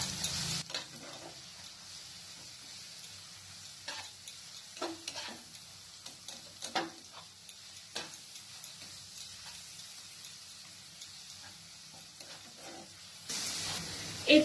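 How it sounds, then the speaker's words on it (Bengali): Ginger-garlic paste frying with onions in a pan, with a soft low sizzle and intermittent scraping of a spatula stirring at irregular intervals, plus brief louder hissing bursts at the start and end. "এরপর পেঁয়াজের সাথে পেস্টটাকে ভালো করে ভেজে নেব, যেন রসুনের কাঁচা স্মেলটা যেন না থাকে"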